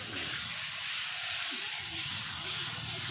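Masala of ground ginger, garlic, cumin and dried chilli sizzles steadily while being sautéed in a pan, a constant close hiss with a faint voice murmuring underneath.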